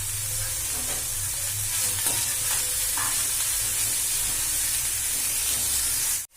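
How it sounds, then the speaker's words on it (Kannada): Continuous oily sizzling of spinach and onion frying in oil in a pan, with a few soft scraping stirs, close and steady without speech, cutting off at the end. "ಸ್ವಲ್ಪ ಬಾಡೋವರೆಗೂ ಎಣ್ಣೆ ಒಳಗೆ ಹುರ್ಕೊಂಡಿದ್ದೀನಿ"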